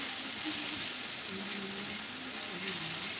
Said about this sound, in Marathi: मी तेल टाकून लसूण वगैरे थोडंसं वाटण घेतलेलं आहे